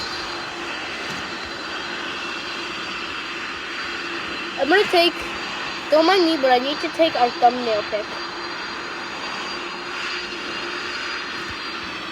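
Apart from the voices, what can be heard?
cargo plane taxiing with engines running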